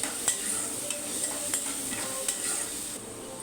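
A spoon stirs egg bhurji with chopped green chillies in a frying pan, steady sizzling under intermittent scraping and clinking against the pan, close and alone.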